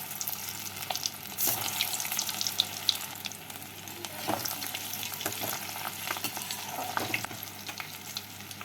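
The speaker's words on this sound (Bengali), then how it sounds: "এইভাবে লাল লাল করে সমস্ত কোপ্তাগুলো ভেজে নিতে হবে" Egg koftas frying in hot oil, a continuous close sizzle with occasional stirring scrapes and small pops, no voices.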